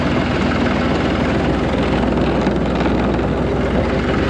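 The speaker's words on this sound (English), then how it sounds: "A handy little tractor" A 5065E tractor, a 2019 Canadian auction find, idles with a loud, steady, low diesel rumble that stays constant throughout with no one talking.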